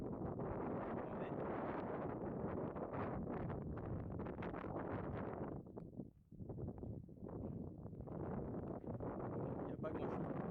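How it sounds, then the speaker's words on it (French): Strong wind buffets the microphone at an old mine site, a loud continuous roar and rumble with brief dips near the middle. "Il y a beaucoup de vent."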